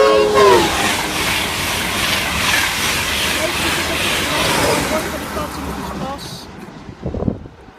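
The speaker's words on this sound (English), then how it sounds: "About to pass straight through platform number 1 at Northallerton will be your 1210 1 Echo 10 version train service from Edinburgh to King's Cross" A train roars straight through platform 1 at Northallerton station, loud and close with a rushing wheel-and-air noise that fades near the end, while a platform announcement voice sounds at the start.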